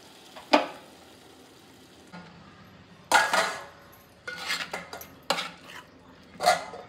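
Cooked prawns are tossed with fresh coriander in a pan, with a few sharp spatula clanks and scrapes against the metal at irregular intervals and quiet gaps between them.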